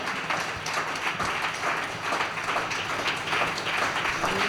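A church congregation clapping their hands together, a dense steady patter of many claps filling the room at an even, sustained level.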